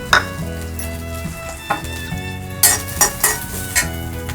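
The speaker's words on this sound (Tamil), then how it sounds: "பார்த்திங்கன்னா நம்ம கட் பண்ணி வச்சுருக்கேன் தேங்காய் லைட்டாக வதக்கிக்கலாம்." Cut coconut pieces sautéed in a pan while making bitter gourd podi, a steady frying sizzle broken by several sharp spatula scrapes and clinks against the pan, close and clear.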